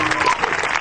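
A church congregation at a night prayer and healing vigil applauds, a brief dense burst of steady clapping filling the space at close range.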